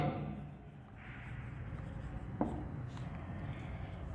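Marker or chalk writing on a board during an accounts lesson, faint scratchy strokes with a brief sharp tap midway, heard in a quiet room with low background hum.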